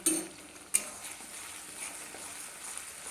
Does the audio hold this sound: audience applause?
no